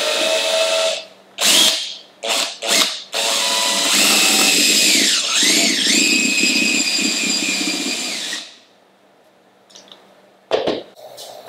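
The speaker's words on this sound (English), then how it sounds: "now I'm going to start with the drill. I'm going to make the largest holes first." A power drill with a 1-inch bit bores into a pumpkin in loud, whining bursts: several short starts, then one long sustained drilling run that stops abruptly, followed by quiet and a brief final burst.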